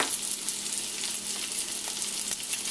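A spiced chicken mixture for sliders sizzles beside onions in a pan. The fairly soft, even frying hiss has faint intermittent crackles throughout.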